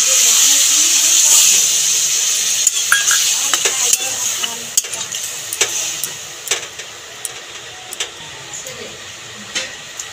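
Water poured onto fried spice masala for a pumpkin and potato curry hisses in a loud burst of steam that gradually eases into a quieter sizzle, with scattered spoon clinks from stirring.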